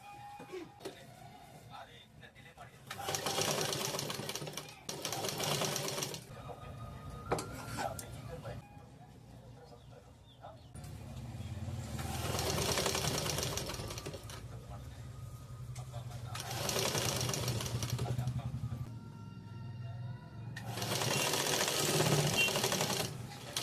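A sewing machine stitches a blouse sleeve in several bursts of rapid mechanical whirring and clatter, separated by pauses, with a person speaking quietly around and between the runs.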